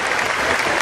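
Audience applause at a kavi sammelan poetry gathering in Nimbahera, a dense, steady crowd clapping that stays loud and even throughout the brief moment.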